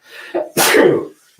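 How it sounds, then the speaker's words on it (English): A single loud, close sneeze with a short inhaled build-up, then a sharp burst that fades quickly, heard on its own with no talk. "excuse me, I'm about to sneeze."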